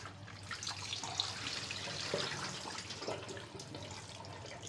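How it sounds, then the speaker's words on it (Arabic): Tap water runs steadily over raw chicken wings being washed in a kitchen, a close continuous splashing hiss with small bursts as the pieces are moved under the stream. "ونغسلوه بشويه ميه"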